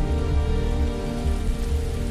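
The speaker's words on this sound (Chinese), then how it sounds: "雨水浇打着树叶" Steady rain beating on forest leaves, a dense continuous patter with low rumbling drops, fairly close and even throughout with no voices.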